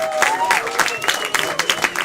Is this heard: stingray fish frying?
no